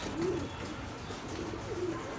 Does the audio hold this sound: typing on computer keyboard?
no